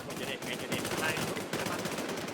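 Rapid sniper rifle gunfire in a video game, a dense burst of sharp repeated shots with brief gaps, loud and continuous through the moment with faint game chatter underneath.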